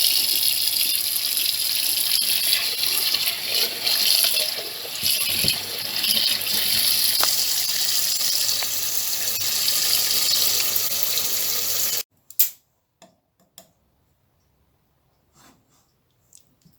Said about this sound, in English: Then I'm gonna Add some cold water, and this will make it easier to strip